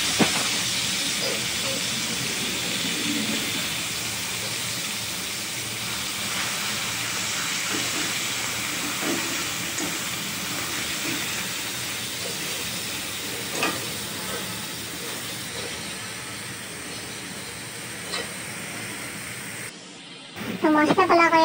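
Cumin seeds and spices sizzle in hot oil in a wok while rajma chawal is being cooked, a continuous loud hiss that holds for about twenty seconds before briefly dipping near the end, with faint voices in the background.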